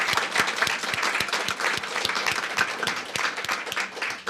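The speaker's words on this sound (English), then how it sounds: "How about a round of applause for our volunteers?" Audience applause at a candidate forum for a California State Assembly district, a lively, moderately close burst of many hands with distinct individual claps standing out, continuous throughout with no speech.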